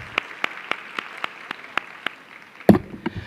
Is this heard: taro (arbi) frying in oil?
no